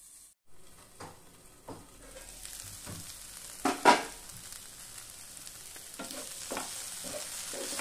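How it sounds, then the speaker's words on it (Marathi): Chopped tomato sizzling and hissing steadily in a covered pan over low gas, with a few soft clicks and knocks from the lid or utensil. "आता आपण यावर झाकण ठेवून बारीक गॅसवर वाफवून घेऊया।"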